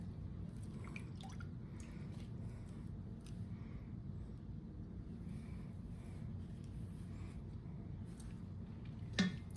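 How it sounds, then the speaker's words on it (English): Buttermilk drips from a lump of homemade butter held in a clean cloth, making small soft drips over a steady low background hiss, with one sharper splash near the end. "Let the buttermilk drip off of it."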